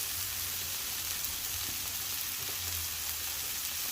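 Burgers frying on a flat top griddle turned up to high heat, giving a steady, close hiss and crackle throughout with no talking.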